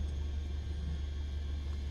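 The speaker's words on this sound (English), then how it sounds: "The other cool thing is, can hear the engines." A steady low Cessna 152 engine drone in Microsoft Flight Simulator 2020 rumbles continuously, a muffled cabin hum heard from inside with no voices.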